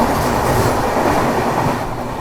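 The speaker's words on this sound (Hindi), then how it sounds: "बगल से ये क्रॉस हो रही है काशी विश्वनाथ एक्सप्रेस।" Kashi Vishwanath Express passing alongside on the parallel track, a loud, steady rail rumble with dense wheel clatter throughout, heard close from a moving train near Anand Vihar.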